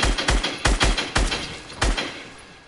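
Quick bursts of explosive weapon fire from a video game, roughly seven sharp booming blasts in uneven clusters, loud and close, with the final shot's rumble slowly fading out.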